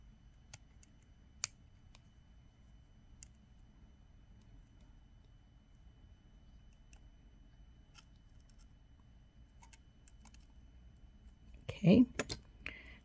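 Cutting a copper jewelry chain: a quiet workspace with a few faint clicks, then a sharp, louder snip near the end.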